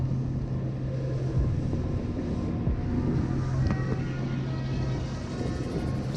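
Twin engines of a 34 ft fishing boat run steadily at speed on open water, a constant low droning hum with wind buffeting throughout.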